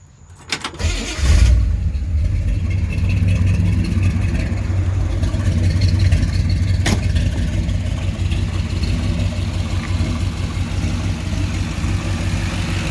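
The 396 big block V8 in a 1959 Chevrolet Impala lowrod cranks briefly, catches and settles into a loud, steady rumbling idle that runs on evenly, close to the car.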